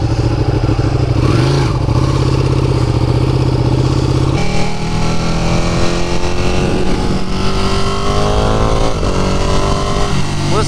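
Ducati Panigale 959 motorcycle on a road trip, engine droning loud and close as it revs and shifts, its pitch climbing and settling steadily under rushing wind, with no talk.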